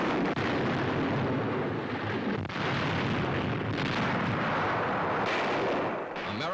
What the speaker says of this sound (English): Allied infantrymen move up in the wake of the opening 2-hour barrage.